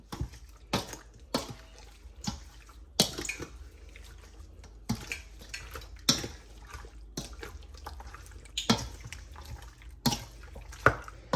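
A spoon turns chicken wings through garlic, onion juice and jerk seasoning in a bowl, making scattered wet slaps and clacks at an irregular pace, about a dozen distinct knocks over quiet background, no talking.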